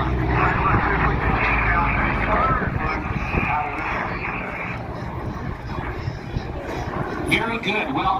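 A Commemorative Air Force FG-1D Corsair warbird at an air show, its big radial engine giving a steady, loud roar with a broad drone that holds throughout, while an announcer talks over the top.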